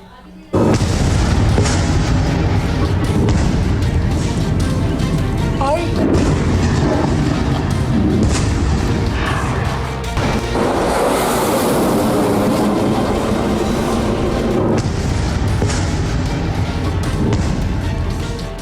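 A rocket attack hits Haifa, Israel, with a loud, continuous, heavy rumbling roar and deep booms running throughout, while voices are also present.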